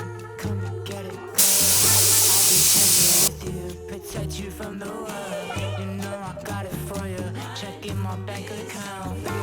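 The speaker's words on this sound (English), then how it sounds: "we can then screw on the gun and get to work painting that bulkhead" A spray gun lays epoxy primer onto a Land Rover Defender 110 bulkhead in one loud, steady hiss lasting about two seconds, over background music.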